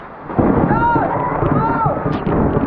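A thunderclap during a tropical storm gives a loud, broad rumbling boom. Voices can be heard exclaiming over it.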